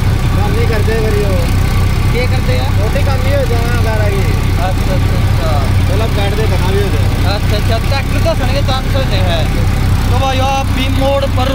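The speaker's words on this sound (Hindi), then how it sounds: "चलता हुआ ट्रैक्टर।" A Massey 241 R tractor engine with a rotavator runs steadily, loud and close, with a constant low rumble, while a person talks over it.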